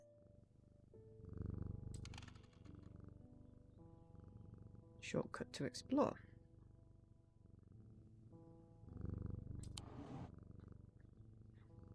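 A cat in the video game Strange Antiquities purrs softly when petted, a low rhythmic rumble rising and falling in a few swells, with someone talking over it and brief interface clicks.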